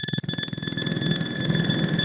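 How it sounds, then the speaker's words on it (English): A hall reverb effect on a pedal board, its sustained, ringing tones blooming into a washy, steady wash of stereo sound that swells slightly over the short stretch. "And one of them is a hall reverb."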